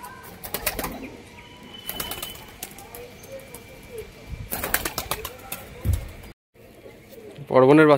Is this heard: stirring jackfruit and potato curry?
no